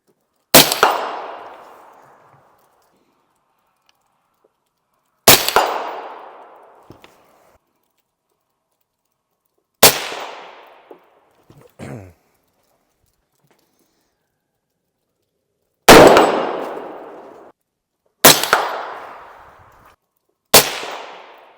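Six loud, sharp rifle shots from a Ruger SR-556VT fitted with a thread protector, each a sudden crack with a decaying echo, fired singly at irregular intervals of several seconds, with no talking.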